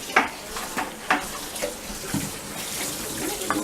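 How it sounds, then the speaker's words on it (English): Tap water runs into a kitchen sink while a pot is rinsed, with a steady hiss of flowing water broken by a series of sharp knocks and clatters of metal against the basin, close up and without talk. "We are going to rinse this thing off."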